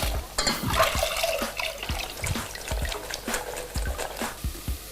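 Soaking water is poured off cauliflower, splashing and trickling close by in uneven bursts with scattered drips, for cauliflower soup in a kitchen.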